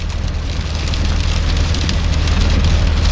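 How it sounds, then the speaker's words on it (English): Rain drumming on a car while driving on the road, a dense close patter layered over a strong low engine and road rumble, steady and loud throughout. "Enjoy the rain."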